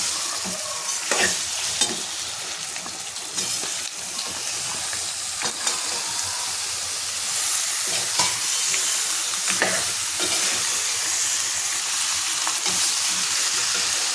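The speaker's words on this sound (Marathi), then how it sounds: "इथे आपण मुंडीचं जे मटण आहे ते टाकून घेऊयात हे टाकून आपल्याला मसाल्यामध्ये फ्राय करून घ्यायचे आहे" Mutton head meat fries in masala in an Agari-style dish, sizzling loudly and continuously up close while a spoon stirs it with occasional scraping clicks.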